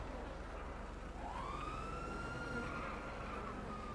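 Police siren in a video game: a single rising electronic wail sweeps up faintly over a steady low background hum.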